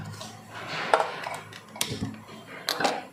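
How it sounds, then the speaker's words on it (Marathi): A kadhai (wok) set down on a gas stove while making amla murabba, giving a few sharp metallic clanks and scrapes against the burner, close and fairly loud over a quiet kitchen background. "कढई ठेवून घ्यायची आहे."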